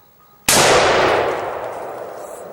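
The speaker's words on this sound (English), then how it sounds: "How are we going to blow it up? With a highly modified AR-15." A highly modified AR-15 rifle fires at an explosive target outdoors, producing one sudden, very loud blast. A long roaring decay follows and fades over about two seconds, with no voices.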